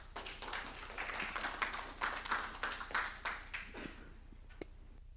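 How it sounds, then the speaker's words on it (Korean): An audience at a maritime finance seminar in Busan applauds as a research director is welcomed to the podium, steady moderate clapping in a hall that fades toward the end. "큰 박수로 환영해 주시기 바랍니다"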